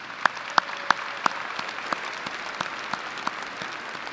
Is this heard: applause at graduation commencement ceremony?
yes